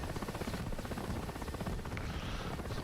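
Mi-8 helicopter in a multiplayer combat game, a steady rhythmic rotor thump with a whining engine underneath, sustained and fairly close throughout, with no talking over it.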